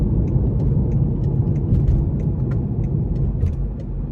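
Inside a 2017 BMW 530i with its 2.0-litre turbo four-cylinder, the engine pulls hard up an interstate on-ramp, giving a steady, loud low rumble with road noise and faint ticks.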